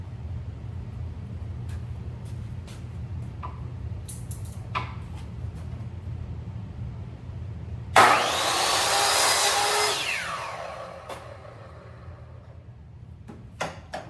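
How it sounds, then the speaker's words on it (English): A Ryobi chop saw cuts through a wooden shelf piece, one loud harsh whining bite lasting about two seconds that then fades as the blade spins down, after quieter handling taps and a steady low background hum. "I'll be using a standard Ryobi chop saw here to just cut this piece off"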